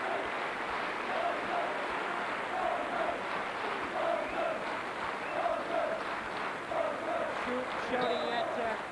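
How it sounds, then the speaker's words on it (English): A stadium crowd applauds and murmurs steadily through a 1989 British American football game between the Manchester Spartans and Birmingham Bulls, with a commentator talking over the continuous distant cheering. "Round of applause for Thornton, who's carried off the field."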